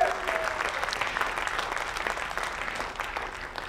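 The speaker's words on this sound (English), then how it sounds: "give the Lord a hand clap." A church congregation claps together in a brief, steady burst of applause lasting a few seconds, fairly even in loudness and heard at a moderate distance.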